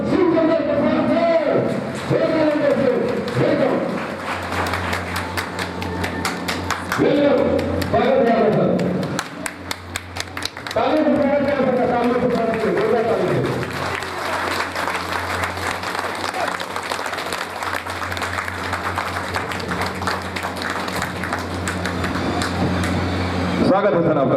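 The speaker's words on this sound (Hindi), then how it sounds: "आप लोग एक हल्ला हुए ताली से, जोरदार ताली से सर का स्वागत करेंगे।" Loud audience clapping greets a guest at a large function in Supaul, a dense rolling patter running throughout, with amplified voices and music-like tones over it and a brief dip midway.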